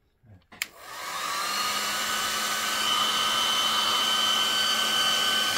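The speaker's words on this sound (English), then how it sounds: "Luckily the customer had a hairdryer" A hair dryer is switched on after a few soft knocks and then blows steadily to heat a boiler's capacitors. It gives a loud, continuous whirring hiss at close range and no one talks.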